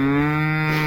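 Pregnant heifers low on a pasture farm give a single sustained, loud moo with a steady harmonic tone, close by and without any talk over it.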